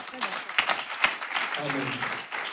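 A church congregation claps and cheers during an evening gathering, a dense wash of applause with voices calling out over it, moderately loud and continuous.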